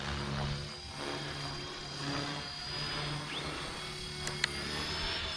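RC helicopter flying nearby, its rotor and motor giving a continuous droning whine with a slowly wavering pitch, fairly loud and steady, with a brief click near the end and no speech.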